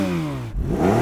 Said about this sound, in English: And I could rev it all the way to redline if I want to.